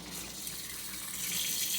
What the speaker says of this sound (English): I'm just going to rinse it until I start seeing clear water running below